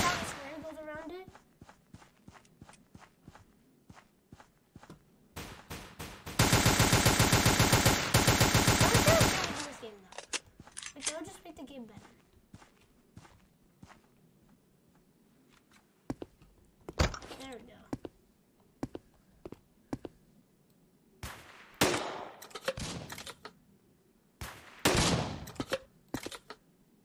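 Gunfire in the online browser game Combat Reloaded, a long loud machine-gun burst followed by scattered single shots and short volleys, with a player talking in between.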